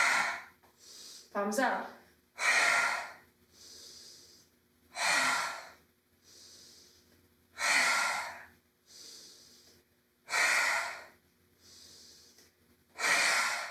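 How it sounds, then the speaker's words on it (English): Forceful audible exhales during an intermediate yoga flow, about eight breathy rushes of air at regular intervals of roughly one and a half seconds, loud and close, with a brief spoken cue in the room. "flow with audible exhales into the goddess"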